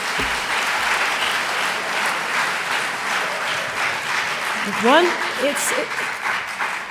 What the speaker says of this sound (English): Yes, let's have an applause.